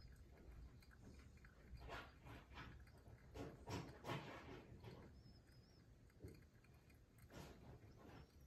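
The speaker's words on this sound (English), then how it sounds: "What you're hearing in the background, I think, is my puppy Benny destroying something." Faint, close crunching and gnawing bursts come in irregular clusters as a puppy chews something, against a quiet room background.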